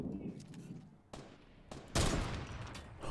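Gunfire in Fortnite, several sharp bursts of shots rising out of a low background rumble, loud and close, separated by short gaps.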